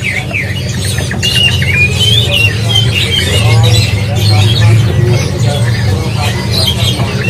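A flamboyan songbird, a semi-tame bird for sale, gives repeated squawking and chirping calls over a steady low hum and murmur of background voices.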